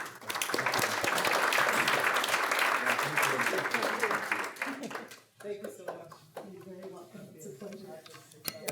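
Audience applause welcoming Dr. Agamah and Mrs. June Agamah at a global health talk, dense and sustained clapping for about five seconds, then thinning out to scattered claps as it fades.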